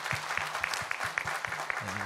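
Faint applause from a congregation during a Korean church Sunday service, the claps falling in a quick, fairly regular rhythm with a low hum underneath.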